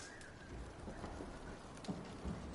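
Steady rain patters on surfaces during a thunderstorm in Red Dead Redemption 2, with soft low thunder rumbling faintly underneath and a few louder drops standing out; no speech.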